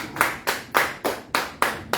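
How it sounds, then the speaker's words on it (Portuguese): A church congregation applauds with loud, evenly spaced claps, about seven in two seconds, in a steady rhythmic beat with no talking. "Aplaudam o Senhor."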